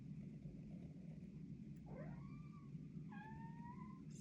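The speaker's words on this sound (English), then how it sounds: "Sorry, my kitty cat found me." A pet cat meows twice, close and fairly soft, the first call sliding upward and the second a longer, steady wavering tone, over a low rumbling background hum.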